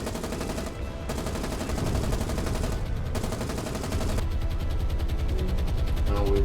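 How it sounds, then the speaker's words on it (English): CW-21 fighter planes strafe a ship in the War on the Sea naval combat game, producing dense, continuous machine-gun fire, loud and close, with brief gaps in the rattling bursts. "we have decided to do some brave maneuvers, as you can see with our CW-21s, and they will strafe it"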